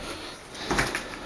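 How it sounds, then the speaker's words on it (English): The back door of a house swings open onto a backyard, giving a brief creak and soft clunk midway through against a faint background hiss, with no talking. "Backyard back door"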